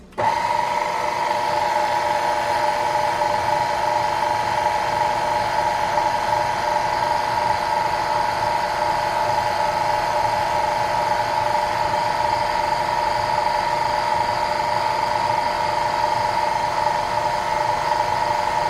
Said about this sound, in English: Let's go ahead and get this on our mixer so we can mix it up.